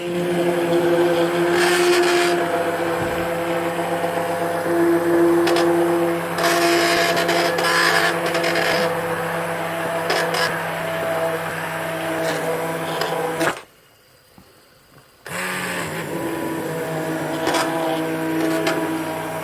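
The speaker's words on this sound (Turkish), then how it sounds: "Evet şu anda blenderdan geçiriyoruz." A blender purées red lentil soup, whirring loudly and steadily, motor humming for a long stretch, cutting out briefly before starting up again.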